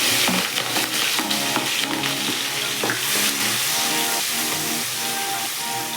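Green chillies fry in hot oil at the start of a chicken keema fry, giving a loud, close, crackling sizzle with occasional stirring clinks over a steady tonal background hum.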